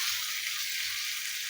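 Spice paste of ground cumin and dried chilli frying for a fish curry, a continuous close, even hiss of sizzling oil with no talk.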